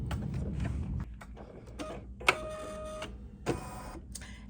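An embroidery machine stitching through vinyl with adhesive stabilizer tape, giving a brisk run of mechanical clicks and ticks with short pauses and sharp taps, close and steady with no talk.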